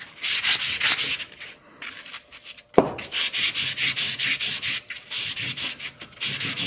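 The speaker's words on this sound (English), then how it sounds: "I'll give the piston a little bit of love. This is WD-40 and a piece of 400 grit." 400-grit sandpaper soaked in WD-40 is rubbed back and forth on a steel piston from a 50-year-old Kubota, giving close, rhythmic rasping strokes with a brief pause and a sharp tap in the middle.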